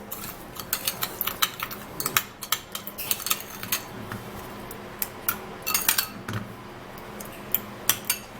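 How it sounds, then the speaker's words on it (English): A spoon clinks and scrapes against a bowl while sugar is stirred into aloe vera, making a quick, irregular run of light metallic ticks. "I'm going to be taking 1 tablespoon of the sugar into this aloe vera, and then we would have to give it a mix"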